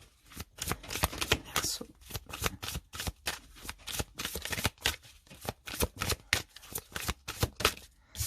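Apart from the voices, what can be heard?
shuffling oracle cards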